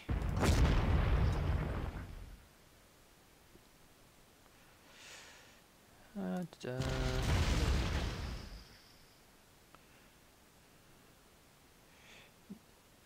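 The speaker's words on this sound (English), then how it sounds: "That artillery." Artillery fire in Panzer Corps booms out in two heavy blasts, one at the start and another a few seconds later, each rumbling deeply, separated by quiet game ambience and a few softer noises.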